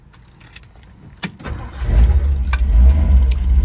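A 1959 Edsel Ranger sedan engine cranks and catches, settling into a loud, steady idle after a few clicks and key jingles near the start.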